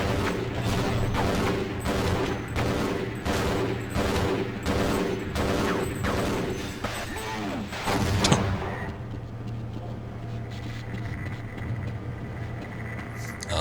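A volley of grenades exploding in the Half-Life PS2 port, a burst of loud rapid blasts and gunfire-like bangs for several seconds, followed by a lingering lower rumble and debris noise.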